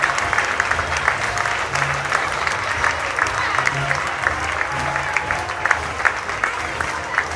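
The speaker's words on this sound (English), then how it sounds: "a round of applause for their sacrifices to keep us safe" Applause from the crowd at a Batavia Muckdogs versus Niagara Power baseball game, a steady dense wash of clapping that holds for several seconds, with a low hum running underneath.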